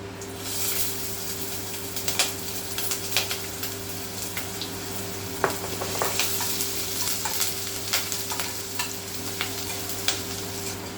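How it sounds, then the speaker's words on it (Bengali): Chopped garlic, ginger and green chili fry in oil in a kadai for paneer chilli, a steady close sizzle broken by repeated stirring scrapes over a low constant hum. "এবার আমার এখানে রসুন আর আদা কাঁচা লঙ্কা ভাজা হয়ে গেছে"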